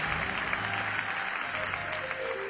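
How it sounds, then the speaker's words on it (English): A crowd at an awards ceremony claps for itself in a short, fairly quiet, steady patter of applause lasting a couple of seconds. "Clap for yourself"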